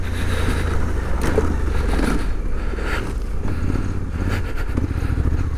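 Suzuki V-Strom 800DE adventure motorcycle engine pulling hard over rocky off-road ground, a steady loud low engine drone with wind and chassis noise throughout, no voices.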